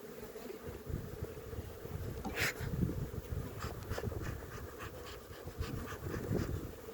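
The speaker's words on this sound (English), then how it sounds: "Let's tap these bees in here." Honey bees buzz in a steady, low drone close by, with occasional soft clicks and rustles.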